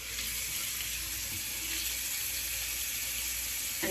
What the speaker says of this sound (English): so I'm going to add a little water